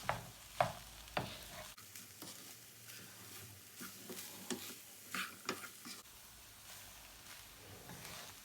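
A spoon works through a stuffed grape leaf filling mixture in a bowl, giving soft, faint wet scrapes and squelches in an irregular rhythm, close and quiet with no talk.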